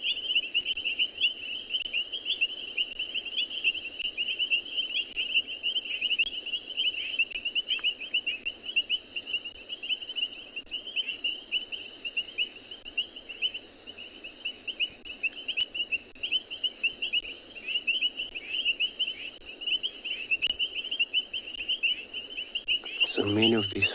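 Painted reed frogs call at night by water in South Africa, a steady, dense high-pitched chorus of chirps and trills that runs unbroken at moderate distance.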